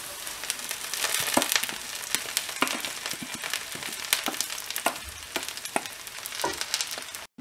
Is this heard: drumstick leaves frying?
yes